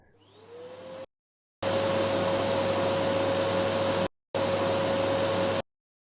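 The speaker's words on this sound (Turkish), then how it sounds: "Hepsi mi böyle bu süpürge seslerinin YouTube'daki?" A vacuum cleaner whines steadily with a high tonal hum, starting up, cutting out briefly, then running loud and continuous in two long stretches.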